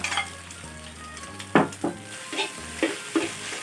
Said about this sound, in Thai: เสร็จแล้วเราก็ใส่ข้าวลงไปเลยนะคะ